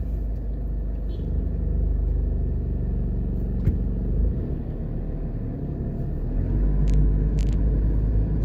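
A car drives along Norbrook Drive in a residential area of Jamaica, a steady close rumble of engine and road noise running throughout with a few faint higher clicks.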